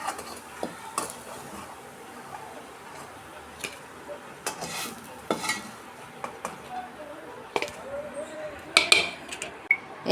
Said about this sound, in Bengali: এইভাবে আমি সবগুলো কাটলেটগুলো ভেজে নেব